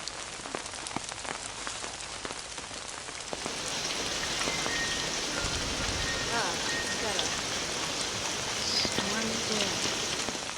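Steady rain on a rainy day, falling on a surface as a continuous patter of drops that grows a bit louder and denser after the first few seconds, with no voices over it.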